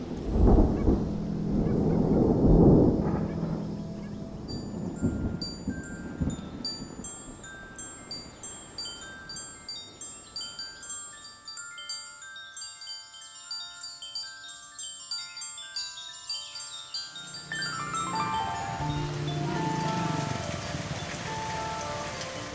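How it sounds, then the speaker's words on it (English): A tropical downpour pours over a working-class neighborhood on the outskirts of Hanoi, a steady roar of rain on surfaces with a loud rumble of thunder near the start and music playing faintly alongside. "A tropical downpour in a working-class neighborhood on the outskirts of Hanoi."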